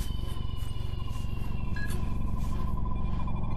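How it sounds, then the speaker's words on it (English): A mobile phone ringtone chirps in a short repeating electronic pattern, faint and steady beneath a continuous low hum from nearby game audio. "Hold on, I got my phone going off."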